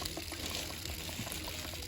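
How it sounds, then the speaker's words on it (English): Water gushes from the opened pressure relief valve of an RV's electric and gas water heater: a steady, close rushing splash with no pauses and no one speaking. "if you open up that valve, you see the water starting to come out"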